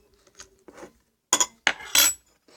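Spoon scraping and clinking against a bowl of homemade slime: a few soft taps, then louder, close rasping strokes in quick succession, with quiet gaps between them.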